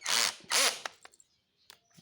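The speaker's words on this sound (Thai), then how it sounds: "มีระบบกระแทกนะครับ" Cordless copy-brand drill switched to hammer (impact) mode, firing two short, loud bursts about half a second apart, followed by faint clicks and handling noises.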